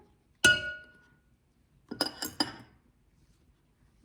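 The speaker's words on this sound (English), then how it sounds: "And now we're going to mix up 2 eggs." Utensil clinks against a glass bowl while two eggs are mixed in with ricotta for Italian meatballs: one sharp ringing tap, a pause, then three quick clinks close by, with no talk.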